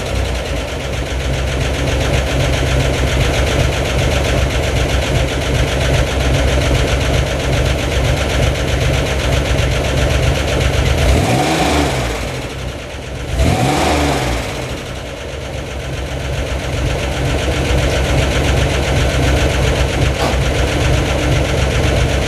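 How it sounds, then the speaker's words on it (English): A Spyder car engine runs with a steady close mechanical drone, briefly dipping and surging midway as it is worked, with no talking. "so I'll crank it for a few seconds instead of 30 to 45 seconds and burn the starter up"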